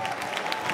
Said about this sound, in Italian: un applauso a Capembrella Scignatel